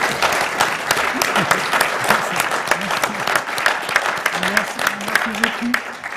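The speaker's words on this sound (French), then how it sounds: "je vous propose qu'on l'applaudisse quand même très" Audience at an awards ceremony at Bercy applauding vigorously, dense sustained clapping close by with a few voices murmuring underneath.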